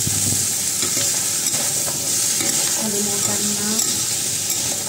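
Igado, a Filipino liver and pork dish, sizzles loudly in a pan over high heat while being stirred, with a continuous frying hiss, scraping utensil sounds and brief words spoken softly underneath.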